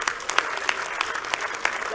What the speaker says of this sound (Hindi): एक बार इनके लिए जोरदार तालियां बजा।